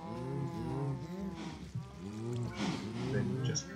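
Several cows moo in Minecraft, their low, drawn-out calls overlapping steadily and fairly close, with a watery rushing sound underneath.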